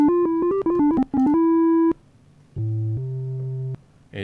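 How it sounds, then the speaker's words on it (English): A plain, sine-like bass tone in a beat arrives after a run of bright, stepping synth notes, holding low and steady for about a second and a half with no voices. "It's literally just a bass sound. It's just like a sine wave."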